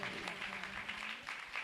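A church congregation claps loudly together, a dense, continuous patter of many hands sustained throughout, close and steady with a faint voice underneath.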